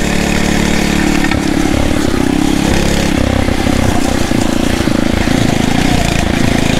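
A Phatmoto Rover 79cc motorized bicycle engine runs loud and close while being ridden off road, its buzzing drone rising and falling with throttle and rough terrain, a voice briefly heard over it.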